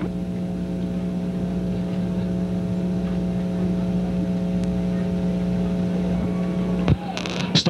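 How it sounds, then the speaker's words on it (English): A dirt late model race car engine on the Cherokee Speedway track at the 1994 Blue-Gray 100 drones steadily and loudly throughout, a constant mechanical hum with a sharper burst near the end. "There comes your pole sitter bringing up the car number 18, a Scott Bloomquist."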